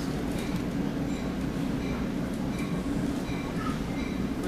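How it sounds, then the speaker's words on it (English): A commuter train rumbling at a station platform, a steady close mechanical roar with a low drone and faint squeals and clicks from the wheels and cars. "ask the guy if it's gonna go past Radburn once that train arrives"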